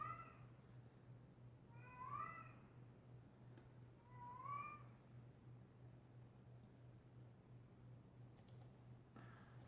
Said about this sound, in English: That cat's making me crazy.